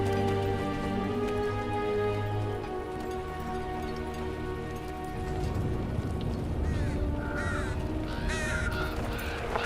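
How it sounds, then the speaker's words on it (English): Crow caws from a video game sound effect, heard at an in-game memorial gathering; several sharp calls ring out in the second half over a dense, steady, rain-like background. "That crow sound effect was awesome."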